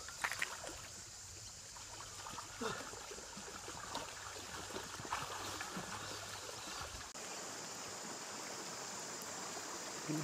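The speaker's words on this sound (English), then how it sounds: "And the water is just flowing." A creek flows in a steady, soft rush near camp on a family hiking trip, with faint trickling and splashing detail and no voices.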